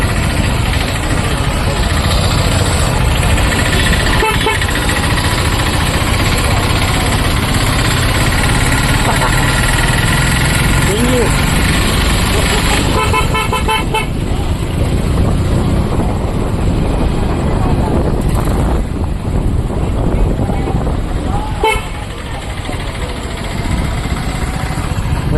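Heavy road traffic passes near Sonapuri at Bhavnath in Junagadh: a dense, constant rumble of engines with wind buffeting the microphone and a few faint horn beeps, while someone talks over it.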